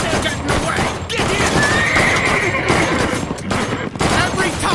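A horse whinnies loudly in a busy, noisy scene, its drawn-out neigh rising over a dense wash of clattering, crackling background sound.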